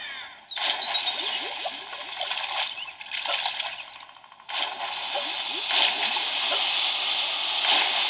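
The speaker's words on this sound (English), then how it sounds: "I guess I just swim across here" Swimming splashes in a video game played on an Anbernic 556 handheld: continuous watery sloshing and splatter with two brief breaks, fairly loud and up front.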